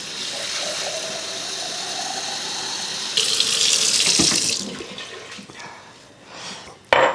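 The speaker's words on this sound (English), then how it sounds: "here's a cup of water" Water runs and splashes as a cup of water is poured into a pot of meatball and tortellini soup, a steady rush for a few seconds that tapers off into faint kitchen clatter.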